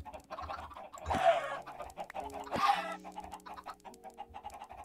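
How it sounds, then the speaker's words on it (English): Minecraft chickens clucking in short repeated bursts, two louder squawks standing out over quieter game ambience and background tones. "kill a bunch of these chickens."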